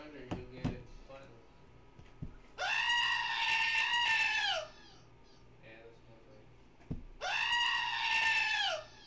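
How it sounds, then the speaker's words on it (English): A goat bleats loudly twice, each long wavering cry lasting about two seconds, with faint game sounds and brief clicks in the gaps between them. "That's a goat."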